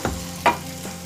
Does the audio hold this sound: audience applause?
no